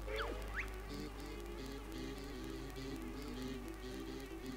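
Bees in the video game Banjo-Tooie give a steady, close droning buzz that runs throughout, with a couple of quick rising chirps from the game near the start.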